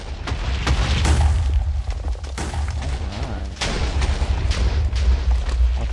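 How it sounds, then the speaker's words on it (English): TNT blocks detonate one after another in the Minecraft video game, a dense, loud run of booms and pops that keeps going for several seconds without a break. "Lots of booms and pops and all that good stuff."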